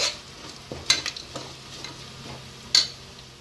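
Onions and whole spices fry in a pan for mutton pulao with a quiet, low sizzle. A few sharp scrapes and clinks from a spatula against the pan cut through, and no one talks.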